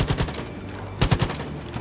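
Kalashnikov rifle fire in the Far Cry 5 video game, zombie mode: two short, loud, close automatic bursts of a few rapid shots each, separated by a brief pause.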